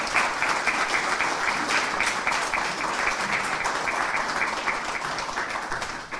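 An audience at a municipal council installation applauds the council's eldest member, a dense, sustained wash of clapping from many hands that holds steady and tapers slightly at the end.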